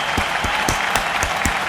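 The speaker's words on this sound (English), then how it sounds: "Round of applause." Applause from an audience, a steady wash of clapping with sharper individual claps standing out, fairly close and continuous through the short moment.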